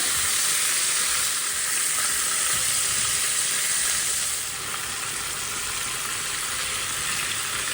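Rolled meat fingers sear seam-side down in a preheated frying pan, giving a loud, steady, close sizzle that hisses without a break throughout. No one speaks.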